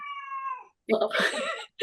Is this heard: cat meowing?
yes